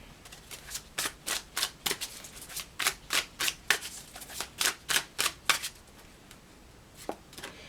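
Tarot cards being shuffled by hand, a quick run of about twenty crisp riffling flicks in steady rhythm, close and fairly quiet, tapering off near the end with no talking.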